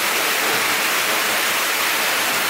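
Seljalandsfoss in Iceland, heard from behind the falling water in icy conditions, gives a loud, steady, unbroken broadband roar like heavy hissing rain, with no voices over it.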